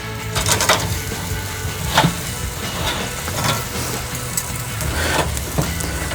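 Chicken drumsticks sizzle over a hot grill as a steady crackling hiss, broken by a few sharp pops and clacks from turning the pieces, continuing without talk.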